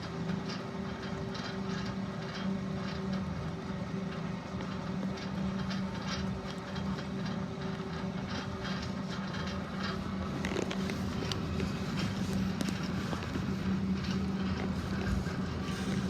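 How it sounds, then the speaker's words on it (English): A tram in Albuquerque, New Mexico rumbles steadily along with a low mechanical hum, rattling and clicking wheels, growing slightly busier toward the end. "There's a tram that we're going on."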